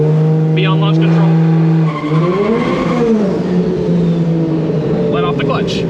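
A BMW E30 with a swapped 2JZ engine and DCT gearbox launches with its tires squealing: a loud engine drone rises in pitch over high tire screech, close up, with someone talking over it.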